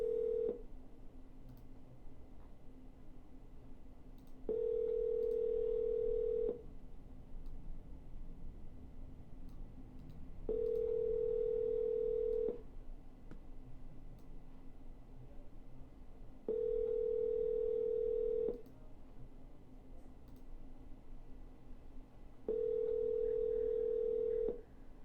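A telephone call rings out unanswered during a cold call, steady ringback tones repeating every six seconds or so over a quiet line hiss, four full rings plus one cut off at the start.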